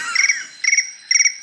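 Crickets chirp in three short trilled bursts, clear and close in otherwise near-silent surroundings, each pulse train lasting a fraction of a second.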